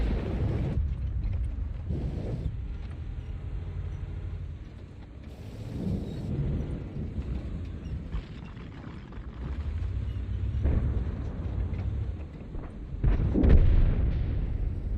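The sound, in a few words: artillery fire in World of Tanks video game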